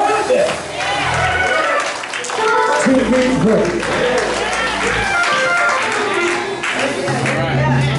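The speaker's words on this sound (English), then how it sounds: "Give the Lord a hand" A Baptist church congregation claps along during worship, with scattered hand claps mixed into singing, music and a preacher's voice that stay loud throughout.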